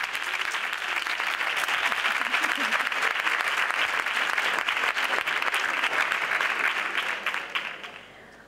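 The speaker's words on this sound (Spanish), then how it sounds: "Fuerte aplauso para ella, Paula Moreno" A carnival proclamation crowd in San Roque gives a sustained, dense round of applause for Paula Moreno, the clapping loud and even for several seconds before tapering off.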